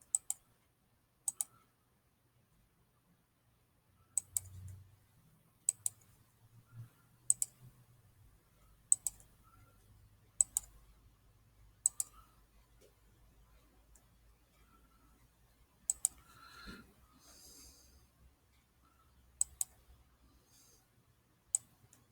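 Sharp, isolated mouse clicks made while trimming lines in AutoCAD come at irregular intervals of a second or two, close and crisp in an otherwise quiet room, with faint low murmurs between them.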